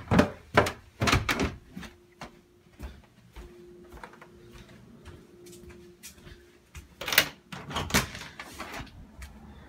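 The back door of a house opens and closes with several sharp thunks and knocks, plus a faint creak from the latch or hinges, all close by and with no one speaking.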